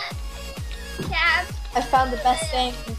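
A cat meows a few times in the Minecraft game, short mid-pitched calls mixed in with overlapping children's chatter.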